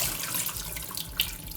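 Rice rinsing under a running kitchen faucet, a steady close hiss of water pouring into a sink with a brief splash near the end, no voices.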